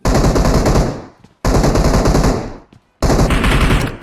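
Loud automatic gunfire from a shooter video game, three sustained bursts of rapid shots separated by brief pauses.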